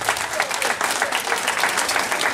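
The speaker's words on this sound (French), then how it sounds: "On applaudit Madame Meurice" Guests at an annual dinner in a French commune clap together in a short, steady burst of dense applause filling the room.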